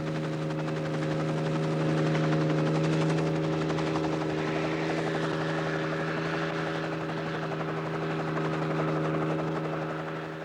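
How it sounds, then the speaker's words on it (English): A helicopter drones steadily overhead, its rotor chopping in a continuous loud thrum that holds throughout with no other sounds. "The helicopter will come out from Derry to lift them above the hedgerows"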